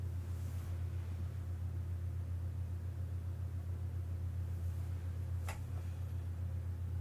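Strong wind roars as a steady, heavy low rumble with no letup, and a brief gust or rattle cuts through near the end.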